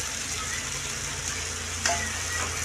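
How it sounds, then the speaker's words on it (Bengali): Potatoes, fried earlier, sizzle and fry with a cooked-down spice paste in a pan for a fisherman's boal fish and potato curry, making a steady, loud hiss with a brief clatter of stirring near the end. "এখন দিয়ে দেবো এখানে ভেজে রাখা আলুগুলো"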